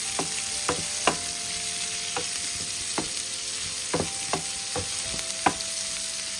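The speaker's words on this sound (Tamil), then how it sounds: "நல்லா அப்படியே வதங்குது." Chopped raw mango sizzles steadily in a hot pan for mango pachadi while a utensil stirs and scrapes with occasional sharp clicks, close up and without talking.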